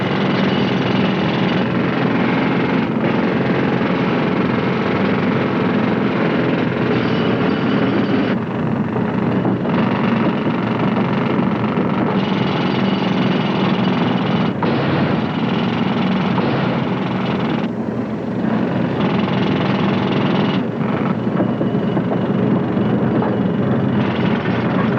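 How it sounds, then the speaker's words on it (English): Heavy machinery drones loudly and steadily throughout, a thick continuous engine roar with slight shifts in texture but no pauses. "Get back to your drilling, Riley."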